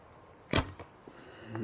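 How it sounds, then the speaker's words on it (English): Heavy 500-grain arrow loosed from a Mongol-style fiberglass bow: a single sharp string snap with a thud, followed by faint scattered ticks and rustle, fairly close and with no talking. "Now we shoot 500 grain arrows."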